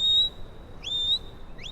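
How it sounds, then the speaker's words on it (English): A shepherd whistles commands to a sheepdog in short, sharp, high notes: a held tone, then rising and falling slides, repeated in quick succession close to the listener. "This lad is a wizard at whistling."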